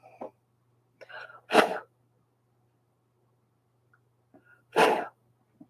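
Two sharp, close sneezes a few seconds apart, set off by dust from a sewing machine while quilting, each preceded by a quick inhale, with soft breaths and a low hum between.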